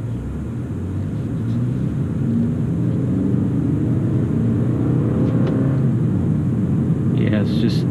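A 2018 Toyota Camry SE in sport mode, dropped into first gear, gives a steady low engine rumble that holds loud and constant throughout, with a faint higher whine toward the end.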